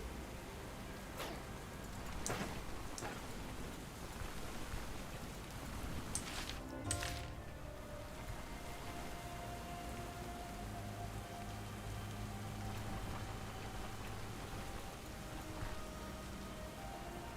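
Video game rain falls in a continuous hiss with scattered droplet taps, even and unbroken throughout, no voices.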